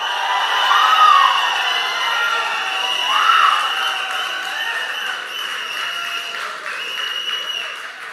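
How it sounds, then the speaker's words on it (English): A launch-event audience for the Honor 90 5G phone cheers and shouts in a sustained wash of crowd noise, swelling loudest near the start and again around three seconds, then easing off. "I need a loud cheer"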